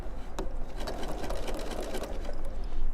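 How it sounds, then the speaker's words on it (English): A sewing machine runs steadily at close range, stitching across quilt pieces with a rapid, even mechanical hum and chatter and no voices. "I'm going to do the same thing and sew right across here."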